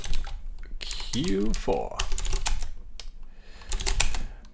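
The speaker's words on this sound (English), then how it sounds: "someone on the chat is is commenting on my keyboard, which, yes, it is a Cherry MX." Typing on a Cherry MX mechanical keyboard during a live coding session, with quick bursts of close clicky keystrokes and a voice speaking briefly over the keys.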